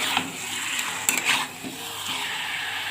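A spoon stirs chicken gravy with potatoes in a pan, giving soft scraping and light clinks over a steady sizzle, close and alone for a few seconds.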